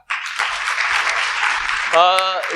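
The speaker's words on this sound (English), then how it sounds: "Let's clap for Isha." Audience at a FICCI FLO workshop in Indore clapping for a participant, a dense, steady applause close by that swells and holds, with a voice cutting in near the end.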